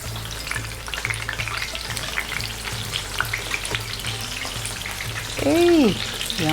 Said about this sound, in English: Frying takes about 2 to 3 minutes on each side.